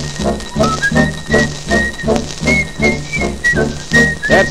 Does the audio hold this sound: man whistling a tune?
yes